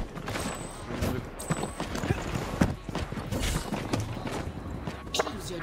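Horse hooves clip-clop in the Hyper Scape battle royale game, a quick run of steady beats mixed with game effects and other noise, with talking over them.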